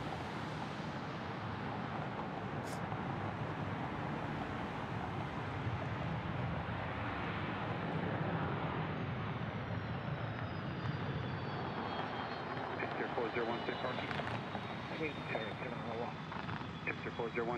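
A Gulfstream business jet, G5 or G6 type, taxis or passes at Dallas Love Field, a broad steady engine roar with rising whine near the end, moderately distant, with radio chatter and talk over it.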